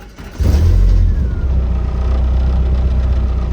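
A Nissan 240SX engine cranks and fires, then settles into a loud rough idle close by, with a brief quieter moment before it catches and no talk.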